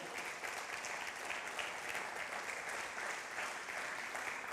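Sustained applause from a church congregation, a dense even clatter of clapping that continues without pause.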